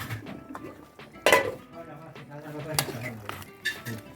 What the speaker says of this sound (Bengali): এই যে নেড়ে দিলাম